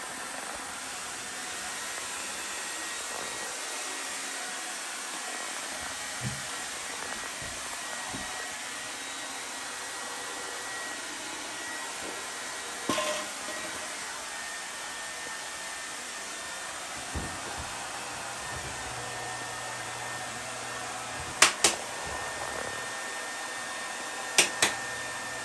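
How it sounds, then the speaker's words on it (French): Steady broadband whooshing hum of a clothes dryer running continuously in the background, with occasional faint clicks and knocks, no talking. "le bruit de fond que vous entendez, c'est la séchoire, la sécheuse"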